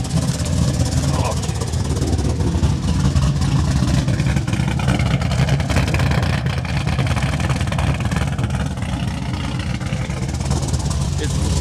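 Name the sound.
V8 engine idling in a Mazda RX-7 FD build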